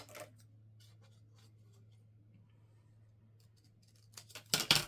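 Paper for a 6x8 craft album is cut, with faint scratchy sliding over a low hum and then a sharp, louder cutting burst at the end.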